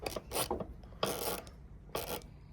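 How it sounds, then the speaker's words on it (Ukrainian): An old used ratchet wrench, a secondhand tool, is turned in short bursts, giving three raspy clicking runs of under half a second each, close and fairly quiet. "Тріщотка повністю робоча. Все тріщить, все крутиться"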